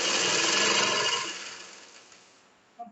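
A sewing machine stitches shirt fabric in a close, steady whir that winds down to quiet within a couple of seconds, ending with a small click.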